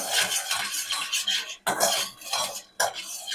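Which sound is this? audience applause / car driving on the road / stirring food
stirring food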